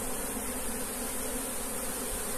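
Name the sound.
Africanized honeybee swarm buzzing in a bucket hive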